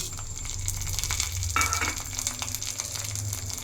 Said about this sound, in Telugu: మిరపకాయ, శనగపప్పు, ఆవాలు అన్నీ వేసేస్తున్నాం.